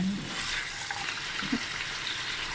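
Vegetables sizzling and being stir-fried in a pan for a spicy Thai catfish stir-fry, a steady close frying hiss with occasional scrapes and stirring clatter.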